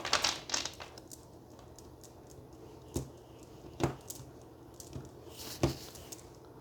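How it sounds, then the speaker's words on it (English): Tarot cards being shuffled by hand, a soft papery riffle and flutter up front followed by several sharp, isolated card snaps and taps spaced a second or so apart, fairly close and quiet with no talking. "let's get one more shuffle, Sag"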